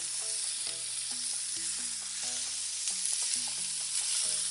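Urad dal hitting hot oil while tempering for a coconut chutney, giving a steady, close sizzle and crackle throughout, with faint clinks of a utensil stirring the pan.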